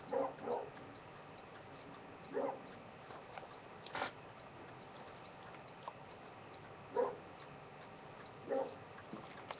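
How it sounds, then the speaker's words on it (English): A dog barks in short, sharp bursts, about six scattered barks over a quiet background, somewhat distant and muffled. "he's barking so loud that he's activating my microphone."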